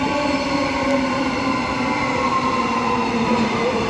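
An electric multiple unit train at Joondalup station gives off a steady whining motor tone with layered high pitches over a rumbling roar, loud and close throughout.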